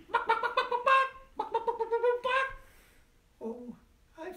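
A voice imitates a squawking chicken in several clucking, warbling bursts with short pauses between them, close and clear, in a quiet indoor setting.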